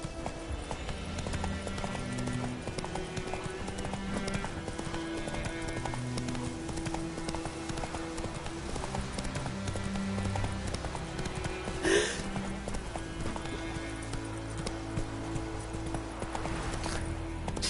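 Hoofbeats of Roach, Geralt's horse in The Witcher 3: Wild Hunt, trotting in a steady clip-clop rhythm over game music and ambience, with one sharper accent midway.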